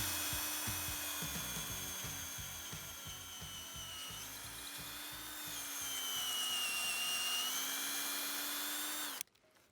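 A power drill bores a tap hole at hip height, angled upward, into a maple tree to collect sap, whirring steadily and close up for about nine seconds, rising slightly in pitch near the end before stopping abruptly.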